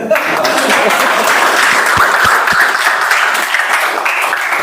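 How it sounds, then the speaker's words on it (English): At a Toastmasters club meeting the audience gives another round of applause, a full, steady patter of clapping close by, with a few sharp low thumps partway through and faint voices beneath. "Let's have another round of applause, please."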